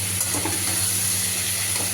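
Vegetables cooking in oil left over from frying fish, a steady, even sizzle and hiss of the pan close by, with no pauses or talking.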